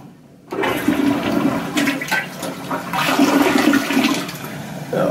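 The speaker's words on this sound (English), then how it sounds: "We're going to try the full flush and make sure that works correctly as well." A newly installed toilet is given a full flush, a loud rushing gush of water that swirls down and settles into the hiss of the tank refilling, with no one talking.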